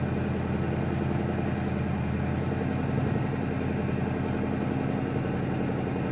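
A 1963 Impala SS engine runs rough and steady, with a low, continuous mechanical drone that swells slightly about halfway through as it tries to rev. It stays close and loud throughout, with no talking.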